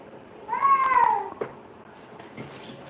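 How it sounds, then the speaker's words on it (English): A pet cat gives one drawn-out, falling meow close by, followed by faint scuffling in an otherwise quiet room. "Sorry, it's my cat."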